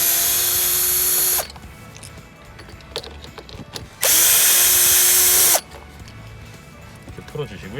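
A power driver backs out T20 Torx screws from interior trim on a Jeep Wrangler JL, giving two loud, steady motor whines of about a second and a half each. Between them come quieter handling clicks and rustles, and a voice is heard.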